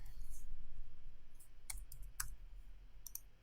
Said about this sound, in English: So in the custom text, just type in sample text.